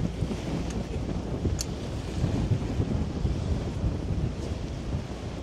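Strong wind buffets the microphone on a barge travelling along the Seine through central Paris, a steady broadband roar with water wash beneath, continuous and loud throughout with no talk.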